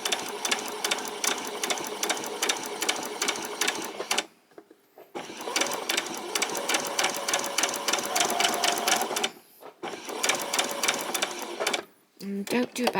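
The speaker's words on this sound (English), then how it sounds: "my needle is going to come just underneath this line of stitching" A sewing machine stitches a white top with a rapid, steady mechanical chatter, running in three long bursts separated by short pauses, close and fairly quiet.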